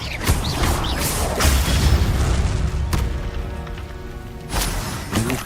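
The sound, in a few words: Bombarda and Confringo spell explosions, Hogwarts Legacy video game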